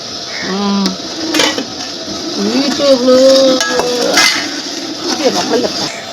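A metal spoon scrapes and clinks against a pot while ivy gourd curry is stirred, giving an irregular run of clatters and knocks close by, with voices talking over it.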